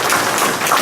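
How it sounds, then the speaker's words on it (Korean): Church congregation applauding together at a Sunday service, a dense, steady wash of clapping for a brief moment. "박수합시다."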